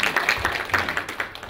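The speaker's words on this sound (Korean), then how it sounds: "박수 한번 먼저 보내줄까요" Audience applause at a university meeting, a quick loose patter of hands clapping nearby, uneven and short-lived, with little talk beneath it.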